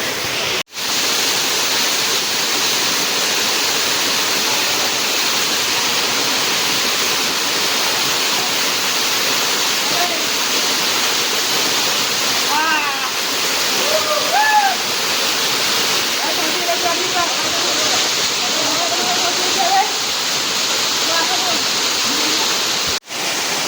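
The Chaulabhaja waterfall near Baripada in Mayurbhanj roars as a loud, steady, broadband rush of falling water, continuous throughout with faint voices barely audible beneath it.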